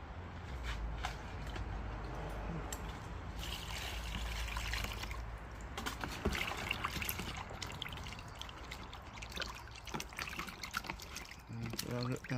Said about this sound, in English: Put some water.